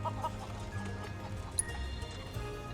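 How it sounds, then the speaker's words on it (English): A flock of chickens clucks faintly in a village in Final Fantasy VII Rebirth, with scattered soft clucks over a steady low background hum and no speech. "I can't keep up with a flock of chickens."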